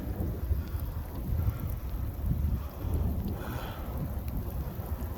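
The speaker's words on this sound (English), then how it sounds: "It is blowing cold, freezing out here." Cold wind roaring steadily through a big thunderstorm, a continuous loud rushing and buffeting outdoors with low rumbling gusts and no talk.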